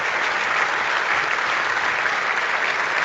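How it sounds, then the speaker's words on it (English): Dense, even applause played into a live stream from its chat, a loud and steady wash of many hands clapping that holds constant throughout without a break. "I guess the chat's clapping."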